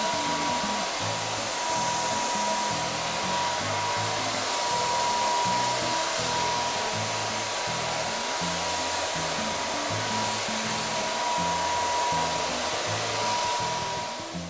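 Hair dryer blowing hair dry after an almond serum application, a loud continuous airy roar with a steady motor hum that runs unbroken throughout.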